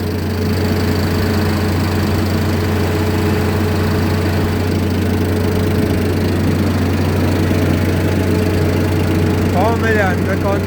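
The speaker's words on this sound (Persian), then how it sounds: "با سرعت گرفتن گاز تراکتور میزان پاشش دستگاه هم به طور اتوماتیک" A tractor-driven crop sprayer runs loudly and steadily nearby, its engine drone constant with a mechanical rattle throughout; a short chirping sound appears near the end.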